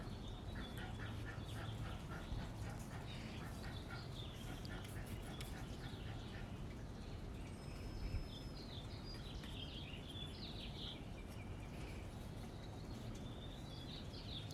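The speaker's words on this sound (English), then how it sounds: "You hear all the birds?" Birds call outdoors at a steady low level, with many faint chirps and honking, duck-like calls overlapping through a quiet background hiss.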